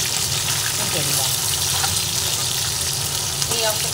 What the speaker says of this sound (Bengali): এই অংশটা একটু ভালো করে ভেজে নেব।